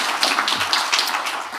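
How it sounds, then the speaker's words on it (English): A large audience at an academic conference on Ireland and the EU applauds for a colleague, with dense, steady hand clapping filling the whole stretch at even loudness and no voices over it. "a big round of applause, please, for Daniel"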